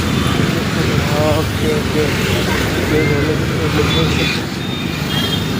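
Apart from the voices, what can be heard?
auto rickshaw driving in road traffic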